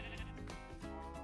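A single Minecraft sheep bleats in a short, wavering cry, close and clear, with no talking.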